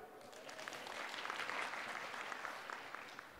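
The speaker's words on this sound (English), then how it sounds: "Can you clap for him, please?" An audience at a lecture applauds in a soft, distant wash of clapping that swells gently and holds for a few seconds.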